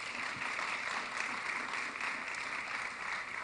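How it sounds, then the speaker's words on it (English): An audience at a mayoral candidate town hall claps for Representative Russell Holmes, a steady, dense wash of applause that holds at moderate loudness throughout. "Clap your hands for him, please."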